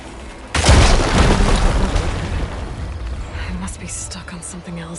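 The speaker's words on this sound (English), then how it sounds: "Igniting the fire gleam should clear it." A fire gleam ignites and explodes to clear rubble in Horizon Forbidden West, a sudden loud boom with a rumbling decay lasting a couple of seconds, followed by a voice speaking.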